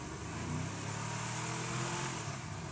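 A truck engine in the video game GTA V runs steadily as the vehicle is driven, a continuous loud mid-pitched drone with slight shifts in revs and no speech.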